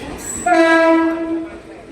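A suburban local train's horn blares in one sustained tonal blast as it arrives at a station, loud and close, fading slightly as it ends.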